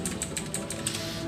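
Light clicking keystrokes on a Zerodate X12 mechanical keyboard, a steady run of about seven close, crisp taps at a brisk typing rhythm, heard alone.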